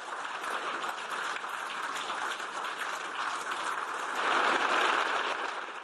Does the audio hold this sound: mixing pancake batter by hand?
no